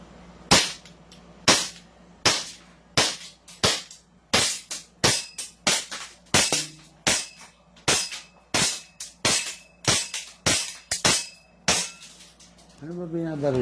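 A KaErsop 1911 CO2 pistol fires about twenty sharp, loud, close shots in a steady rhythm roughly every half-second, with a brief voice near the end.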